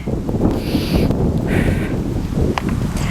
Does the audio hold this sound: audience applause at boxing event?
no